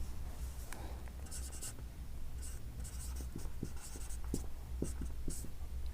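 Chalk or pen writing out a Class 8 maths mensuration problem on a board or paper, a steady run of short scratchy strokes close to the microphone with a low hum beneath, growing busier toward the end.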